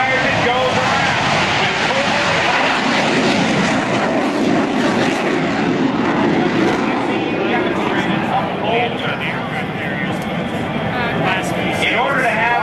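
Boeing F/A-18F Super Hornet jet engines roaring loudly and steadily throughout at a 2004 Joint Services Open House airshow demonstration, with a broad continuous rumble close by and a voice talking over it.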